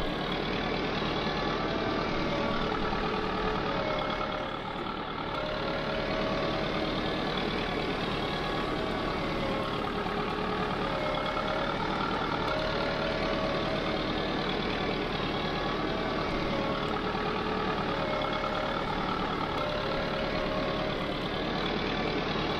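Sonalika 60Di tractor engine in Farming Simulator 22 climbing a steep slope, a steady, continuous mid-pitched drone held at constant loudness throughout, with no voices.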